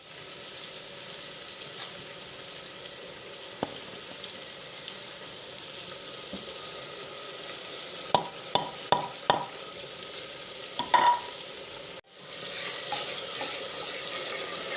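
Tomatoes cooking down in a pot for chicken handi, a faint steady sizzle with a few brief clinks and scrapes of a spoon partway through.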